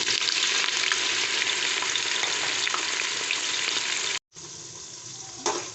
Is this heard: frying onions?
yes